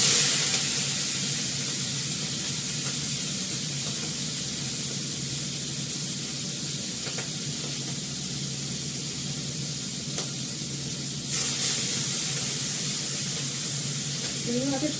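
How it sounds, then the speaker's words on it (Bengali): Prawns frying in a pan, a steady close sizzle and hiss continuing throughout with a brief louder burst of crackle near the end. "চিংড়ি মাছটা ভাজবো।"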